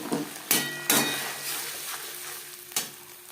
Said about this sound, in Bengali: দু তিন মিনিট নাড়াচাড়া করে নেওয়ার পর দিয়ে দেবো দুটো টমেটো